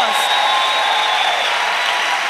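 Congregation clapping at a church pastoral college opening in Côte d'Ivoire, a steady dense wash of many hands held at an even level for the whole stretch, with no pauses or distinct individual claps.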